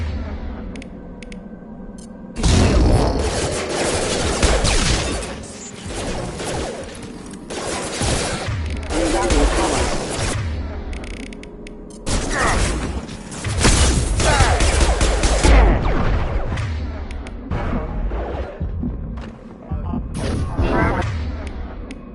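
Sustained gunfire against combat mechs in the sci-fi shooter Mass Effect 2: long dense bursts of loud weapon fire and impacts broken by short pauses over about twenty seconds, close and continuous.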